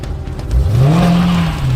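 A Dodge Hellcat races a Ford Ranger. A loud engine roars close by, its pitch climbing steadily as the car accelerates hard, then levels off at high revs.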